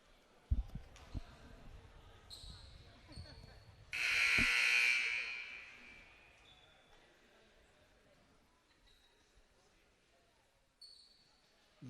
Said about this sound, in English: Buzzer went off.